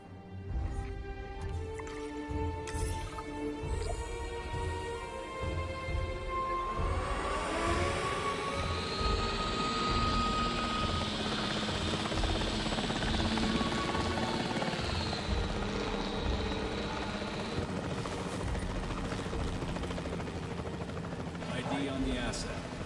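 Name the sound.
capture team helicopter in the video game Jurassic World Evolution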